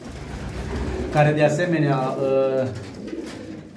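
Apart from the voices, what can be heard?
pigeons cooing in a loft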